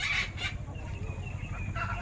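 Free-range country hens clucking near their shed at dusk, a few short soft clucks and calls over a low background hum, fairly faint.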